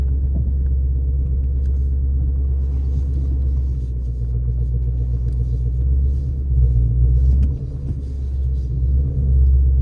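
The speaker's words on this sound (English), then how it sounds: "I'm just letting the car warm up just a little bit on quiet mode or normal mode." A car with aftermarket exhaust valves warming up at night in quiet or normal mode, the engine idling with a steady deep low rumble, close and continuous, swelling slightly a couple of times.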